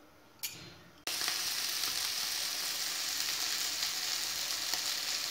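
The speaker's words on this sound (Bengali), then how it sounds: "চিংড়ি মাছগুলো ভাজা হবে" Prawns frying in plenty of hot oil, heard as a steady, loud close sizzle that starts with a brief burst, then jumps up and holds continuous with no talk.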